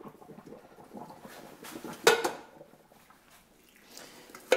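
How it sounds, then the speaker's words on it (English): Cooked potatoes drained in a colander, with soft wet pattering and dripping, a clattering knock of the pot or colander in the middle, and a brief sharp clink at the end. "We'll drain them off in a colander here"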